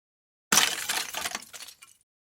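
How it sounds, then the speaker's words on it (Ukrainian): An icicle drops onto the ground and shatters with one sharp crack followed by a brief tinkling scatter of ice fragments, close and clear with nothing else heard. "а це бурулька впала на землю."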